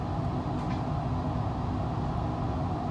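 Amtrak San Joaquin train 715 pulling out of Bakersfield station, a steady low rumble of rolling rail cars heard from inside, even and continuous throughout.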